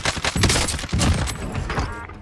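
AMAX rifle firing in Warzone, a rapid loud burst of gunfire with dense overlapping shots and thumps across the short stretch, no talk.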